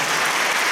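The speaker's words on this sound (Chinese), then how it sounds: "再给他们一次热烈的掌声好不好" Audience applause for students at a graduation performance, a brief, dense, steady burst of many hands clapping together.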